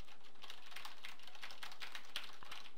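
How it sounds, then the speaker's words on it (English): An Azio Mech5 mechanical keyboard clatters with quick, bright key clicks in an irregular typing rhythm, close and fairly quiet, with no one speaking. "it has the audible clicking of the mechanical keyboard"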